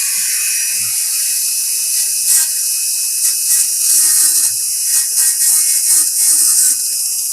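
A 1963 Dremel rotary tool chips away at a plastic liftgate part on a 2003 Toyota Sequoia, giving a steady, bright high-pitched whine with small flutters and bursts of grinding as it bites into the material.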